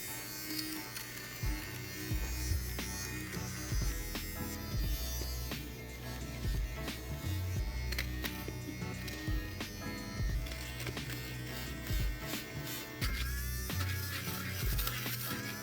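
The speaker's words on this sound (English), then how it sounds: "I'm gonna grab a couple lint shavers and take care of that now." Electric lint shaver run over the sock liner of a suede Jordan 4 sneaker, a steady buzzing whir that continues throughout with small shifts as it moves across the fabric.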